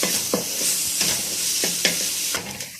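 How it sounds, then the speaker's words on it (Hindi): Crushed garlic-ginger paste is fried with onions for kaddu kofta curry, a steady close sizzle broken by four or five scraping stirs of a spoon in the pan, with no voices. "अब हम इसके अंदर 1 टेबलस्पून कुटा हुआ लहसुन अदरक का पेस्ट डालेंगे और इसको भी अच्छे से भून लेंगे।"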